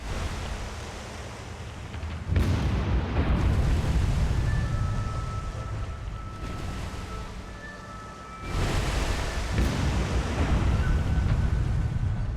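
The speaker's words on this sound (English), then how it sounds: "these secondary explosions amidship will slow her down" Deep, rumbling warship explosions in a naval war video game roll in heavy bursts, one near the start and another midway, each leaving a dense roar that sustains loudly before easing off.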